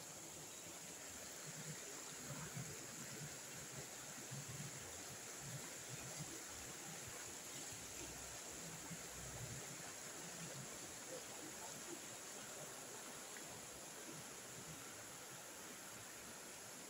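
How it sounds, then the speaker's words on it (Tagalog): A river flows in a steady, even rush of water that stays faint and continuous throughout, with no voices over it. "Grabing ilog ito no?"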